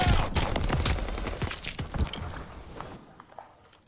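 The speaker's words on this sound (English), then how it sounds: "Mortars incoming" Mortar fire in a video game, with a rapid run of thudding impacts and crackling blasts that start loud and fade toward silence.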